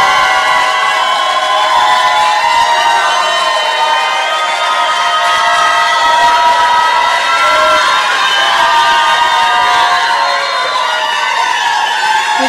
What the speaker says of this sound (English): this is the time you all are all allowed to break the rule and show your appreciation with applause